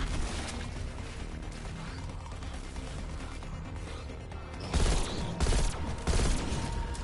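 Gunfire in Call of Duty: Black Ops Cold War Zombies, where a dense rattle of game noise gives way to three loud, clustered bursts of shots near the end.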